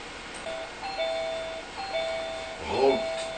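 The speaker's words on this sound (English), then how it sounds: "Stop ringing a bell like that, you crazy kids." Trick-or-treating kids ring a doorbell repeatedly, giving several short chime tones in quick succession, followed by a muffled voice near the end.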